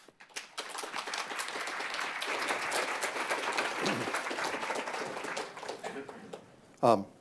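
An audience at a medical forum on gene editing welcomes a speaker with sustained applause. It starts abruptly, holds as a dense wash of many hands for several seconds, then fades out, ending with a brief close thump.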